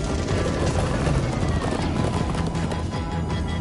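Galloping horse hooves clatter in a fast, continuous clip-clop with occasional whinnies during a Minecraft Story Mode game chase, loud and busy throughout, with brief shouts over the hoofbeats.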